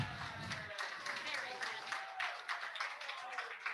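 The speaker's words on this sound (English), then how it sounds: "The applause here is going on for Christina." Audience applause for Christina McGrath at a virtual fashion show, a steady wash of clapping lasting throughout at moderate level, with a voice speaking over it.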